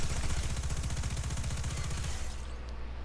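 The Death Adder weapon in a video game fires a rapid, even burst of shots for about two seconds, loud and close, then stops with a short tail afterward.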